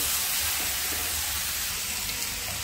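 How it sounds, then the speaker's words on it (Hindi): Grated tomato hits a pan of golden fried onions, giving a steady, loud, dense sizzle and hiss that holds evenly throughout. "अब इसमें टमाटर डाल देंगे, ग्रेट किया हुआ टमाटर है ये, और इसे भी प्याज के साथ अच्छे से पका लेंगे।"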